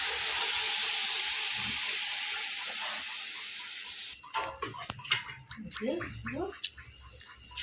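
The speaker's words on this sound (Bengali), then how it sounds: "এখন আমি এটাকে গরম পানি দিয়ে দিব।" Hot water is poured into a pan of fried pulao ingredients, making a strong steady hiss of steam that fades over several seconds, followed by clattering and nearby bits of talk.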